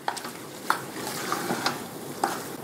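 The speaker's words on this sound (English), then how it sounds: "So next you'll add 1 tablespoon of ground coriander. And mix that together." Ground coriander is stirred into a pot of venison chili with Italian hot sausage: soft spoon strokes over a faint simmering sizzle, punctuated by a few sharp clinks against the pot.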